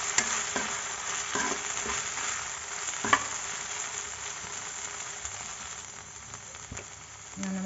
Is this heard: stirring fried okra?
yes